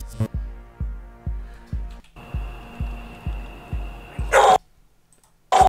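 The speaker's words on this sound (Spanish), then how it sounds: "Se asustó porque gritó el perro" A dog lets out two loud, sharp barks or yelps in quick succession near the end, after a run of steady, rhythmic low thumps.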